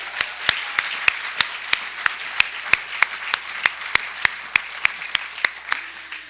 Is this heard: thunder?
no